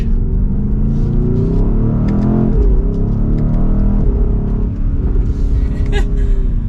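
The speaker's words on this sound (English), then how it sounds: "if I just put it back into the shifting mode now and use these paddles in the quickest shifts, even in automatic, it sounds so good" A 2023 BMW XM SUV's exhaust rumbles loudly and steadily through quick automatic paddle shifts, with a short dip in tone at one shift before the deep growl resumes.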